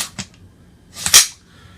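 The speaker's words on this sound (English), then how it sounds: "First, what we're going to do is we're going to ensure the weapon is clear." Sharp metallic clacks from the action of an LMT 7.62mm MWS rifle being worked while it is cleared. A light click comes first, then a louder, longer clack, both close and with no talking.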